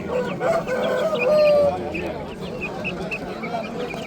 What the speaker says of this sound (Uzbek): Bu ikki xo'roz shekilli aka?